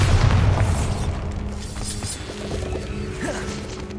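Bombarda spell explosion in the video game Hogwarts Legacy: a heavy close boom at the start followed by crashing debris, clatter and scattered impacts as the blast dies away, with no talk.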